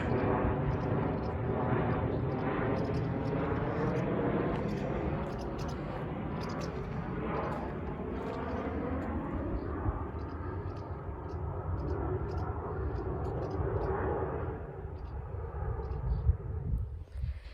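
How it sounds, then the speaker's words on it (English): A low, broad roar of an airplane passing overhead fills the recording, swelling and fading gradually, steady and fairly distant. "we have a plane flying over"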